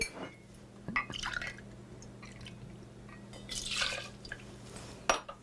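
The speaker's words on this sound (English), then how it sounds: "So we're going to start with this Empress Gin. We're going to do a 2-ounce pour." Empress gin is poured into a jigger for a two-ounce measure, giving soft liquid trickles and drips with light glass clinks at intervals, close and fairly quiet.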